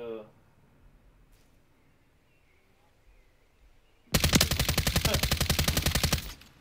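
A loud, sustained burst of automatic gunfire in Call of Duty Modern Warfare III erupts after a quiet stretch, a rapid even rattle of shots lasting about two seconds.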